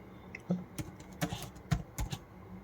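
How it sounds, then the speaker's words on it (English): Computer keyboard keys tapped while overwriting a spreadsheet cell in MS Excel: about eight quiet, separate clicks in an uneven rhythm, close and soft, with no talking. "Just go to the cell and start typing."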